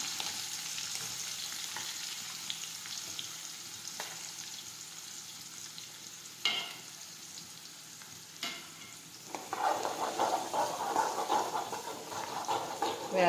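Onions, chopped chilli and asafoetida sauté in oil in a pan, a soft, faint sizzle with occasional knocks of a spoon, growing louder and busier toward the end as stirring picks up.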